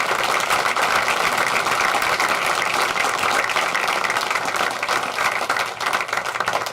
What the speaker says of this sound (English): let's give him a wonderful round of applause